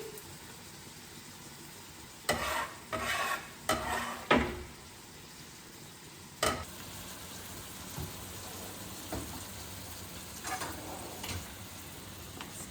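Dill and parsley get a quick stir in a pan for a Greek spanakopita filling, several short scraping bursts of spoon against pan close up, then a couple of fainter stirs over a low background hiss.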